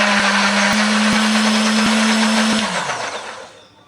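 Kitchen blender grinding shallots, garlic and candlenuts with a little water into a spice paste, a loud steady whirring roar that runs continuously and then winds down to a stop.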